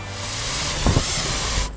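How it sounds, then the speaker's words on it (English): A foam cannon mixing car soap with pressurized water sprays with a loud, steady hiss continuously for nearly two seconds, with a brief rough sputter midway, then cuts off abruptly. "foam cannon produces a thick foam by combining car soap with pressurized water."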